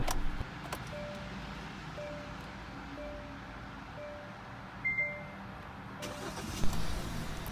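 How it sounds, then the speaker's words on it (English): A car with all four spark plugs freshly replaced starts up and settles into a steady, even idle, a close, moderate hum that runs throughout with no one talking. "So let's start the car."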